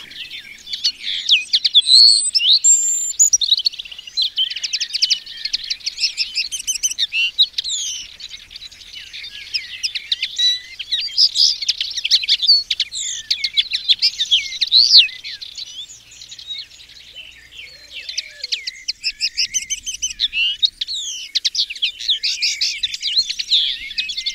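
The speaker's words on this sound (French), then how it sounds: "Et voici la fauvette pique." A warbler sings in gorse and bramble scrubland in Côtes d'Armor, a continuous stream of scratchy, rapid chattering phrases from close range, with no pause across the whole stretch.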